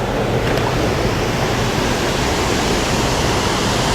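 A creek waterfall pours with a loud, steady, broadband rush that fills the whole clip without a break.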